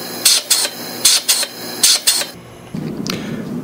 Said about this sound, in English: The chamber has a mechanical system that can crush the ice.